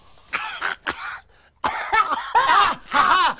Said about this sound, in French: C'est ton push-push qui me fait tousser.